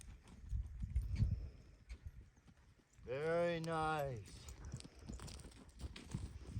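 Horse's hooves thud and clop on soft ground during a groundwork lesson, irregular close steps, interrupted midway by a person's short spoken remark.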